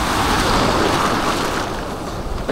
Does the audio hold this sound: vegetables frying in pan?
no